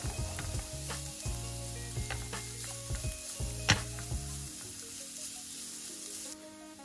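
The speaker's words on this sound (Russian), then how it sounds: "Обжариваем все вместе до готовности продуктов." Vegetables sizzle and crackle in a hot pan, with a utensil scraping and stirring now and then, close and continuous without talk.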